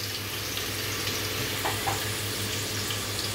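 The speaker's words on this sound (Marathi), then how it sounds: "कांदा टाकला तेलामध्ये" Chopped onion fries in oil in a pot, with a soft, even sizzle running throughout and a couple of light clinks partway through.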